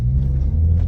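A BMW E90 M3 with a naturally aspirated V8 and six-speed manual gives a deep, close exhaust rumble, steady and heavy for a short burst.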